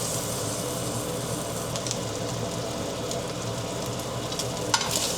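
Meat finishing in a hot, lightly smoking pan after sous vide cooking, with a steady, close broadband sizzle and a few sharper pops near the end.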